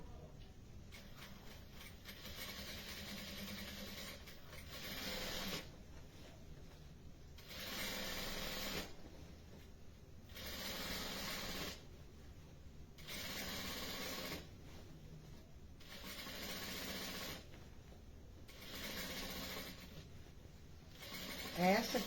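Domestic sewing machine stitching a fabric seam, running in repeated bursts of a few seconds each with short pauses between, steady mechanical whirring close by.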